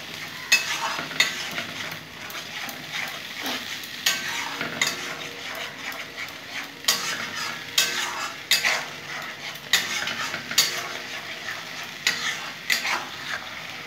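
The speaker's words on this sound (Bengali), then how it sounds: "আদা রসুন পেস্ট আছে, ভালো করে কষে নেব।" Ginger-garlic paste stir-fried in a pan while cooking pomfret, with steady close sizzling and repeated scraping and clinking of a metal spatula against the pan throughout.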